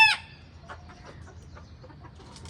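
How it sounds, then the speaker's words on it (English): Local chickens in a big farm cage in Dubai give a loud squawk at the start, then softer scattered clucks over a low steady background hum. "that is my chicken for you. It's really, by the way, it's really a big cage"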